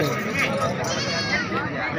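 Beetle, Nagri and Amritsari goats with their kids bleat close by amid people chatting, the wavering animal cries mixed into a busy, continuous wash of voices.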